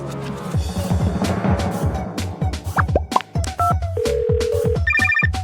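An electronic phone ringtone plays a quick, bouncy melody of chirps and plucked tones, loud and close, with rapid repeating beeps near the end.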